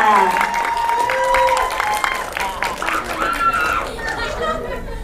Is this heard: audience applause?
yes